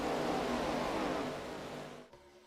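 Race cars in the iRacing video game accelerating at Talladega, a dense engine roar that fades over about two seconds and then cuts off.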